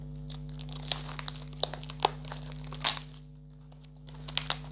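Plastic wrapping is torn and crinkled off a trading card display box up close, with irregular crackling bursts and sharp crinkles over a faint steady electrical hum.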